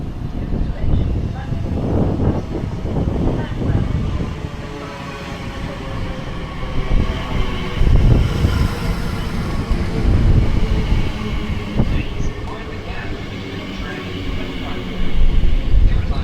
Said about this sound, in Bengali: ট্রেন চলে আসছে প্ল্যাটফর্মে।